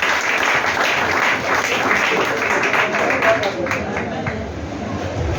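A crowd at a church missionary men's gathering claps and cheers in sustained, loud applause mixed with voices.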